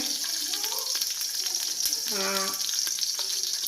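Milma ghee melting in a pot on the stove, with a steady close sizzle and crackle running throughout and a brief voice sounding over it midway.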